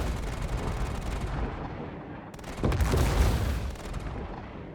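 Dual ballistic cannons on top of an RSI Meteor ship fire in Star Citizen, slow heavy booms with a rumbling decay, one shot then a stronger blast about halfway, loud with no talking.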